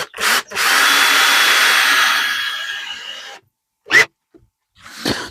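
A power drill drives screws to attach hinges, whirring loudly in a sustained run of about three seconds that winds down, then two short bursts after a brief silence, close up.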